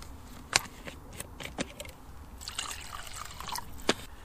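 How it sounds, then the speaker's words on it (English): Water poured from a container into a pot of leftover Christmas dinner stew cooking in the woods, heard as a few splashy pours and drips, fairly close and quiet. "I'll add a bit of water to it to cool it down."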